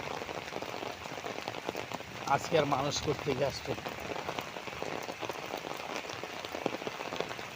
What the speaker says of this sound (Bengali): সকালবেলা উঠেই যে বৃষ্টি শুরু হয়েছে